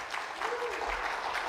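Brief applause from a church congregation at a Sunday service, steady clapping filling the whole moment, with a voice faintly mixed in.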